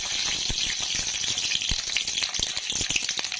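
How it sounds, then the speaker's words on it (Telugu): Mustard seeds and other ingredients frying in hot oil in a kadai while tempering for a taro root (chamagadda) pulusu, a steady close sizzle with scattered pops and crackles throughout. "ఇప్పుడు కొద్దిగా కడాయిలో ఆయిల్ వేసుకొని కొద్దిగా ఆవాలు వేసుకొని ఆవాలు బాగా వేగాక"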